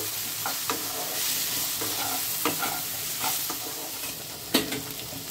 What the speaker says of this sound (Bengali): এবার এটাকে ভালো করে নেড়ে ছেড়ে দিচ্ছি